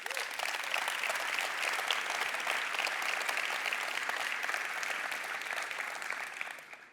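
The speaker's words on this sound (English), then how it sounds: "Round of applause for Yuto." Sustained audience applause at a community tech keynote, dense and steady for several seconds before tapering off at the end, with no talking over it.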